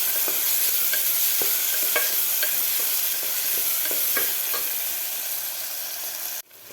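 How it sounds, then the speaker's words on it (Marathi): Chopped onions sautéing in a pressure cooker for pav bhaji give a steady close sizzle with repeated light scrapes of a stirring spoon, ending in an abrupt cut. "कांदा सुद्धा आपल्याला 2 ते 3 मिनिट व्यवस्थित परतून घ्यायचा आहे"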